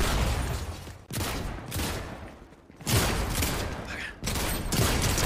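Video game gunfire in bursts of rapid shots, loud and close, broken by brief gaps over about five seconds.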